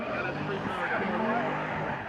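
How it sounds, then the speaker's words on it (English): An LS3-powered Corvette drift car slides with a loud engine wail and screeching tires, under a commentator's voice. "Trevor in this bar car again from Drift HQ, LS3 powered Corvette."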